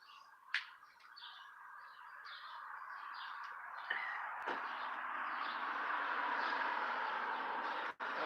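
Birds chirp and twitter at a backyard feeder, a steady chorus of calls with a few sharper clicks and a brief dip near the end, no voices.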